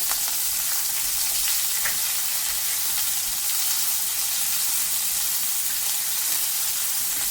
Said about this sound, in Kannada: ಬೇವಿನ ಸೊಪ್ಪು ಫ್ರೈ ಆದ ಕೂಡಲೇ ಈರುಳ್ಳಿನ ಹಾಕೋಣ.